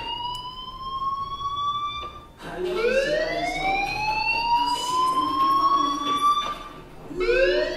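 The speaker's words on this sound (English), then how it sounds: "do you hear that fire alarm? That means you should be outside." Fire alarm in the video game Life Is Strange, ringing as a loud electronic wail that sweeps upward in repeated rising tones, breaking off briefly before starting again, with no talk over it.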